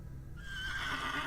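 A horse in the Ace Attorney video game gives a short, fairly faint whinny over a low background hum, with no voices.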